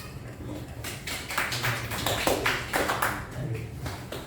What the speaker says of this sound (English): So give yourself a huge clap.